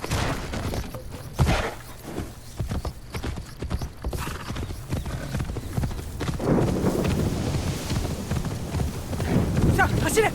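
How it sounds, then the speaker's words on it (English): Horse hooves clip-clop at a gallop in the samurai-era video game Assassin's Creed Shadows, a rapid rhythmic pounding under game ambience with an occasional whinny, while a player talks over it. "So, I'm just going to call up my horse, and we're going to get riding"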